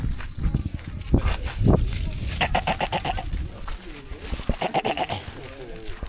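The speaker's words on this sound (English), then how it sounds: "You know the sheep, they follow one another." A flock of sheep in hilly Rwandan countryside bleats in a few short, wavering calls amid shuffling movement and nearby background voices.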